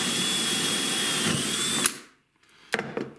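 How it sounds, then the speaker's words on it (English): An electric drill bores through a wooden block with Formica laminate, pressed against the bit, giving a steady, close whining grind that cuts off sharply, followed by a few light clicks and handling knocks. "I'll push the block down against it like this, and then I'll drill."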